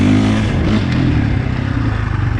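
A 2021 KTM 450 Factory Edition motorcycle revs loud and close on its standard aggressive map, the engine note rising quickly and holding a raspy, rapid blat.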